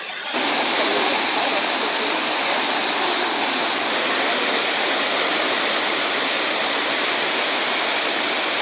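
A loud, steady roar of the Courtallam waterfall rushes without pause, dense and close, masking everything else.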